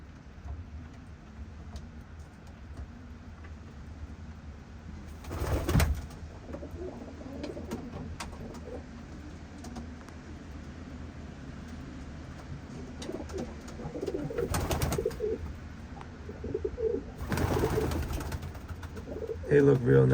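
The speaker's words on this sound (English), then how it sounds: "They look real nice, these birds." Young racing pigeons coo softly and intermittently at a loft, with a few louder bursts of wing or handling noise and someone talking now and then.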